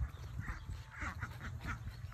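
Ducks on a small farm give a series of quick, moderately close quacks in a loose rhythm, with faint background rustle and no talk.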